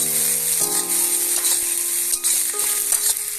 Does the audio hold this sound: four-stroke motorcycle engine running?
no